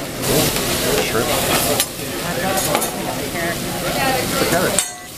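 Shrimp sizzling loudly on a hibachi grill at a restaurant dinner, a steady dense hiss with scraping and clinks of spatulas, while voices and room chatter carry underneath.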